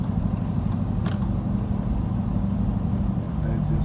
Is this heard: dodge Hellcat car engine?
yes